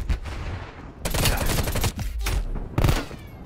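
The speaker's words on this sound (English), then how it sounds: "I'm getting shot like across the map by the guy with the shotgun." Bursts of gunfire in the Call of Duty Cold War video game, with rapid automatic fire starting about a second in and a second loud volley near the end, all fairly close and loud.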